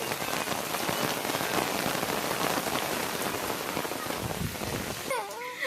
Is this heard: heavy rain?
yes